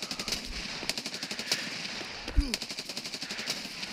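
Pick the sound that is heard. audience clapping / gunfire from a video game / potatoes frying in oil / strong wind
gunfire from a video game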